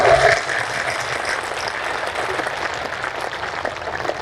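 Crowd applause at an Aam Aadmi Party political rally in Atraila, Sirmaur, steady clapping from a large outdoor audience, loud and sustained throughout without talk over it.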